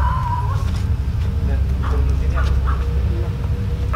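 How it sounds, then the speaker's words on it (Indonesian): Dogs bark at night around 1 a.m., a few short barks and yips sounding at a distance over a low background rumble. "Ada suara anjing menggonggong."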